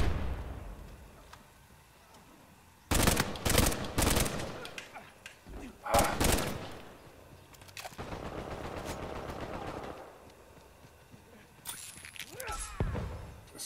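Gunfire in Uncharted 4 multiplayer crackles in loud rapid bursts, several clustered volleys of automatic shots with a sustained stretch of fire in between, close and punchy against quieter game ambience.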